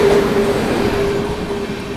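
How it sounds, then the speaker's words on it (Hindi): The New Delhi Gaya Mahabodhi Express runs along the line past Ghaziabad Junction, heard from on board as a loud, steady rumble with a faint high wheel squeal, and no talk. "यहाँ पर अपनी ट्रेन ने गाजियाबाद जंक्शन को स्किप कर दिया दोस्तों।"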